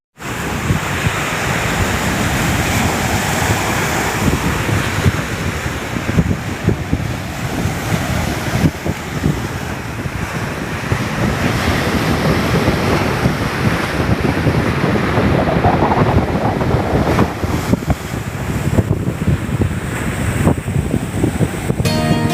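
Sea waves roll onto a beach in a steady, loud wash while gusting wind buffets the microphone throughout, with no voices.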